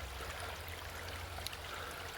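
Winter creek flowing steadily as a faint, continuous watery hiss and trickle, heard alone with no talk.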